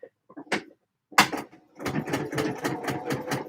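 A home sewing machine running in short bursts, a brief start and stop followed by a steadier close mechanical whirring run with rhythmic pulses, alone without talk.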